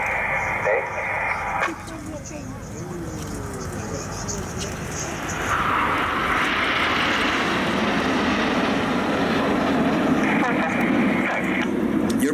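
Red Arrows display jets trailing smoke fly in at an Armed Forces Day air show, a distant roar that builds and stays loud under loudspeaker commentary.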